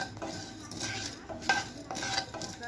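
Peppercorns and two dry red chillies fry lightly in a pan, with a soft, steady sizzle under repeated scraping strokes of a spoon against the metal, close and moderately loud.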